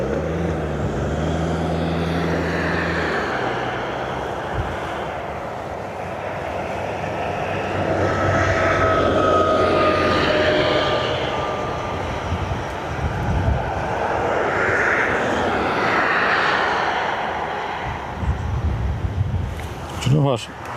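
Aer Lingus airliner arriving at Dublin Airport, a broad engine roar swelling and fading over about twenty seconds, steady and fairly loud, with a brief clatter near the end.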